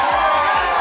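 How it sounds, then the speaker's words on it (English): A sitcom studio audience roars in loud, sustained cheering and applause, a dense continuous wall of crowd noise close up. "Mr. Sachs comes in for a rousing cheer"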